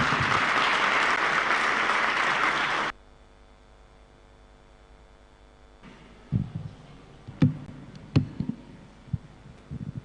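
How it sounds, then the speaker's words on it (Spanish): Loud crowd applause during a Sunday church service, a dense burst of clapping that stops abruptly after about three seconds, followed by near silence and a few scattered thumps and handling noises. "Vamos a recibirla, por favor, con fuertes aplausos."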